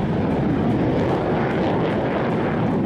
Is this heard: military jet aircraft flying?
yes